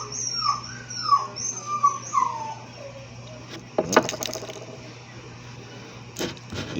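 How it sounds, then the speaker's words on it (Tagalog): A restless house dog whimpers and whines in a series of high, drawn-out cries, then gives a short sharp bark, heard fairly close over a low steady hum. "Ingay ng aso namin guys"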